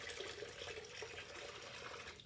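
Four cups of chicken broth and four cups of water pour into a Dutch oven on medium heat, a steady, close liquid rush and splash running without a break.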